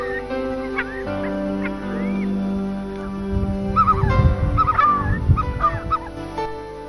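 On Kerguelen, a young great skua gives repeated honking, nasal calls while being measured, weighed and ringed, close by over soft handling noise, louder in the second half.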